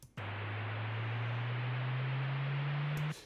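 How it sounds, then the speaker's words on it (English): Synthesizer patch of a sine wave layered with noise and looped on one held note: a steady low pure tone under a hiss that starts abruptly, holds evenly for about three seconds and cuts off cleanly. "this is basically a sine wave and noise looped"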